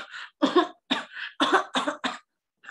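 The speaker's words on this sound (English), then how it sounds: "What is cough?" Several harsh coughs in a quick series, about six bursts with short gaps, close and fairly loud, used in a sickness vocabulary lesson for sixth graders.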